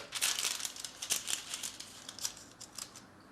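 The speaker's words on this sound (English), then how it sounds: "Now I will put the protection foil back" Protective foil being handled and pressed back onto a freshly glued long-pimple table tennis rubber, giving close, quiet crinkling and rustling with brief crisp bursts in an irregular rhythm, no talking.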